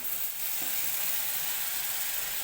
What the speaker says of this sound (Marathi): आता मी टाकून घेते टोमॅटोची पेस्ट